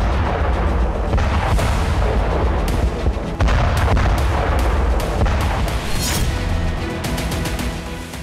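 Missile strikes and explosions on Crimea hitting a Russian missile depot, a loud dense barrage of booms and sharp blasts layered over a continuous low rumble.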